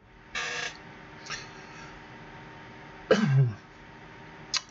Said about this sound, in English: Might stop me coughing.